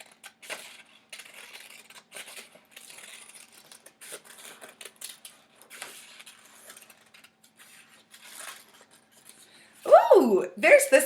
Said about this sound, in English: So I'm going to try to cut that out now out of my black paper.